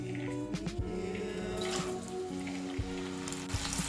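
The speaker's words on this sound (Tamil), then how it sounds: "இப்போ இந்த கடலைப்பருப்பை ஊற வச்சு இந்த வடிகட்டி நல்லா ட்ரை பண்ணி வச்சுருக்கோம்ல, அதை வந்து இதில் போட்டுக்கணும்." Soaked and dried chana dal tipped into hot oil in a kadai, a loud close sizzle that starts after a brief clatter and keeps crackling and spitting on its own.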